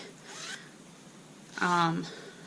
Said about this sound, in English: The zipper is very sturdy.